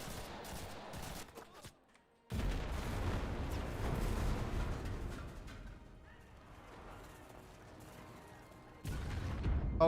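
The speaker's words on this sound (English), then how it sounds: "Oh god, that was artillery." Artillery fire in the video game Enlisted, a heavy rumbling barrage that drops out briefly, then returns loud and sustained with booming low-end impacts, a voice faintly underneath.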